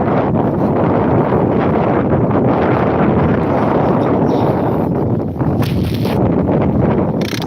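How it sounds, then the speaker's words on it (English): Strong wind on a promenade buffets the microphone continuously with a loud roaring rumble that barely lets up, gusting throughout. "It's very windy."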